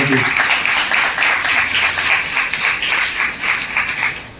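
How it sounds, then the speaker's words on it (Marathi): Applause from a Swaminarayan temple congregation at an Annakut festival, honouring a devotee's birthday; steady, dense clapping continues throughout, fairly loud and close, with a voice briefly audible at the start. "त्यांचा वाढदिवसाचा टाळ्या वाजवा"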